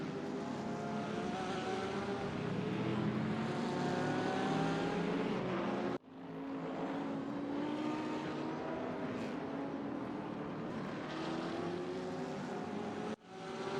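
Porsche race car at speed on the Bathurst circuit during an ADAC Masters event, a loud sustained engine whine climbing in pitch through the gears, with two sharp cuts where the sound drops and resumes.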